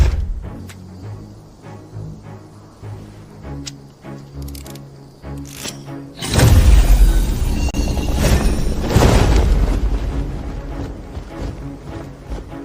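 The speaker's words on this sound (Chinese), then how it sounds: "江南霹雳堂与天机阁的联名款火与渊，每只造价5000两白银。 各位，看烟花吧！" Huo Yu Yuan fireworks, a costly branded set, going off: after quieter scattered crackles, a sudden deep boom bursts in and is followed by sustained loud crackling and rumbling explosions.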